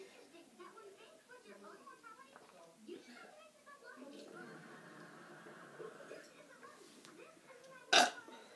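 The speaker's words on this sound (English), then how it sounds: "We're gonna have a burping contest" Children talk through a burping contest, then one loud, abrupt burp breaks out near the end.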